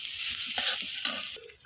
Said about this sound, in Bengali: দিয়ে দিচ্ছি দারচিনি, এলাচ আর তেজপাতা। এখন হলো দিয়ে দিই একটু ভাজা ভাজা করে নিচ্ছি